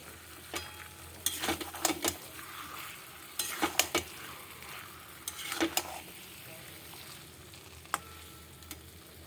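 Paneer with a spoonful of butter and cream bubbles softly in a pan for paneer peshawari, a low simmering sizzle under several louder clinks and scrapes of a spoon against the pan, with no talking.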